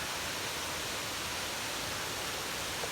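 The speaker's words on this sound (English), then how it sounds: "It's a beautiful little waterfall here." A small waterfall on the Appalachian Trail in Maine pours steadily, a close, even wash of rushing water with no voices.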